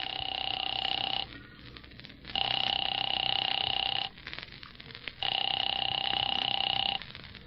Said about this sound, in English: Phone seemed to ring forever.